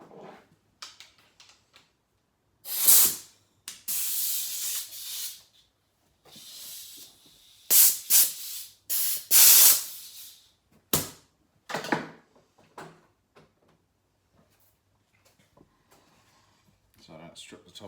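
Compressed air blowing out the parts of a Stihl MS200T chainsaw during teardown, several sharp hissing bursts in short irregular blasts, close and loud, with quiet handling noises between them.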